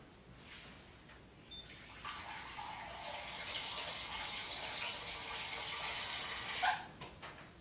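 Water pours steadily into a jar of cabbage for fermenting, several seconds of a full, rushing stream with a brief splashy surge near the end.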